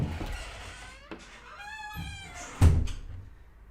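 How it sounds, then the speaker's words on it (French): A pet cat meows indoors, a drawn-out harmonic cry lasting about a second, followed by a sharp thump like a door or cupboard closing, with scattered household knocks around it. "vous avez entendu mon chat qui miaule."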